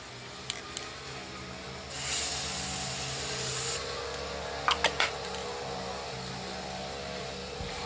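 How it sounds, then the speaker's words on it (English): Rust-Oleum 2X Ultra Cover gloss clear spray paint hisses from the can in one steady burst of about two seconds, followed later by a few short clicks and taps over a low background hum. "I have my Rust-Oleum 2X Ultra Cover Gloss Clear, and we're going to just spray our cover"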